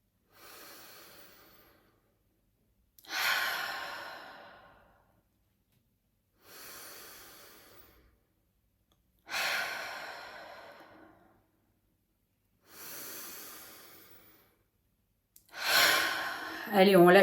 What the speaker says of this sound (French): Tu vas maintenant fermer les yeux et prendre 3 grandes respirations profondes.